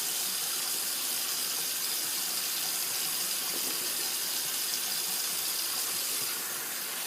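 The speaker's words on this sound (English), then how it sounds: "Rinse off my hands, rinse off the soap container." Tap water runs steadily into a sink while hands and a soap container are rinsed, a continuous close hiss and gush lasting the whole stretch with no speech.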